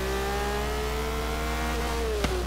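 Car engine in Forza Horizon revving high and steady toward about 9,000 RPM, a sustained loud whine with rising and falling pitch and a brief sharp transient near the end, no talking.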